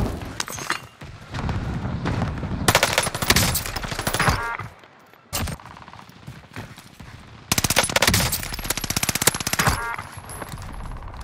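The Nikita assault rifle fires in Call of Duty Warzone on the Fortune's Keep map. Loud, close bursts of automatic fire come in several long strings separated by short pauses, with a few booming impacts mixed in.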